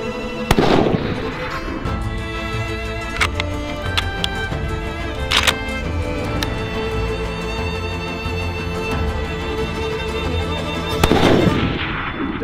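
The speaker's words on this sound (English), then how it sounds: "So I'd really like to just double check and shoot at the distance that I might be hunting at." Rifle shots fired at a 400-yard target during an aoudad hunt in the West Texas high desert, two loud close cracks roughly ten seconds apart with a ringing outdoor tail between.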